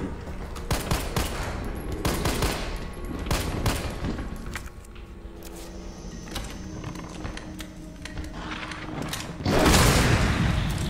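The player's strongest gun firing in the Resident Evil Remake final battle: a string of loud, close shots and booming bursts with short pauses, ending in a heavier blast, with no speech.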